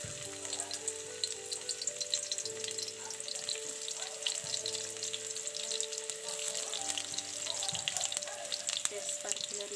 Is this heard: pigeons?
no